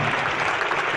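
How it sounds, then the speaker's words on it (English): A brief burst of audience applause at a comedy talk, dense clapping from a crowd sounding close and fairly loud for about a second. "Give us a big round of applause."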